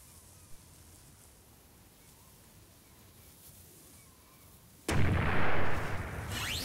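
Artillery fires in the strategy video game Battle Worlds: Kronos: low, quiet ambience gives way to a single sudden, loud, heavy blast whose roar lingers to the end.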